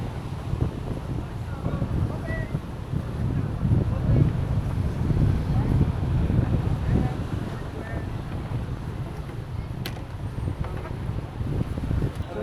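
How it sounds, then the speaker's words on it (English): Strong wind buffets a beach with clear water and sandy shore, a constant low roar of gusts hitting the microphone with faint surf beneath, steady and loud for the whole stretch. "The beach is beautiful. Beautiful sands, clear blue waters. It's just very windy."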